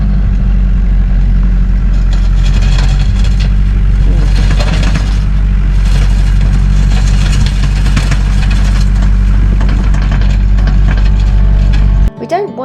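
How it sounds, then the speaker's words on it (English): Tractor digging into a hard clay floor, its engine droning loud and steady at close range with a constant low rumble throughout, stopping abruptly near the end. "I'm just having way too much fun on the tractor digging this up."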